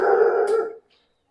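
A dog at a kennel gives one loud, close bark drawn out into a short howl-like cry, then stops abruptly into silence.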